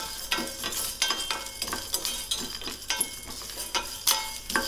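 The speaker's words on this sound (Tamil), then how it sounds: "லோ ஃப்ளேமில் வச்சுட்டு இதோட வாசம் நல்லா இதிலிருந்து வர்றது வரைக்கும் இதை வறுத்து எடுத்துக்கிட்டா போதும்" Soft scraping and stirring of whole spices dry-roasting over low flame in a dry pan, with light rattling taps as small pieces shift and tumble, steady and close, no voices.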